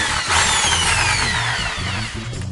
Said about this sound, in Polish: Wybieram sobie miejsce, w którym będę wiercił dziurę i jedziemy